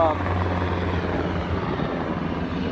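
A steady, loud rotor drone from a helicopter fills the air, a continuous low throbbing roar.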